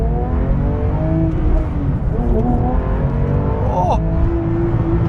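A 2026 Porsche 911 GT3 Touring engine runs in sport mode with a loud, rumbling, rising drone as the car pulls away, with someone talking over it.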